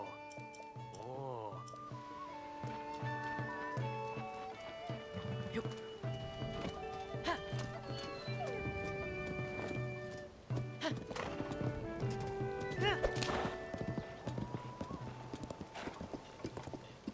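Horse hooves clip-clop steadily in Zelda: Tears of the Kingdom, with a whinny early on, over game music and effects, moderately loud and continuous.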